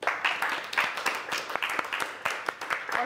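A small group claps, the individual hand claps distinct and irregular in a sparse, moderately close patter throughout.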